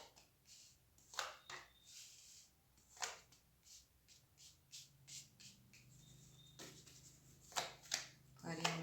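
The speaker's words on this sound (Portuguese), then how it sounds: "Eu já embaralhei um pouco as cartas e eu vou embaralhar só mais um pouquinho." Traditional Rider-Waite tarot deck being shuffled by hand, a series of soft riffling flutters and light card slaps at close range, repeating irregularly through quiet surroundings.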